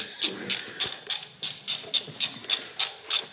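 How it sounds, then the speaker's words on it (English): A ratchet clicks in a steady rhythm while snugging cylinder head bolts down on a 1998 Ford Ranger 3.0 engine, about a dozen close, crisp ratcheting strokes with no talk. "On tightening them up."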